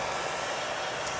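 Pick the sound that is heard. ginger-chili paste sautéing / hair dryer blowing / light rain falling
hair dryer blowing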